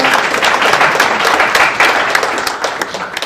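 Steady applause from a church congregation, dense clapping sustained at an even level throughout without pause.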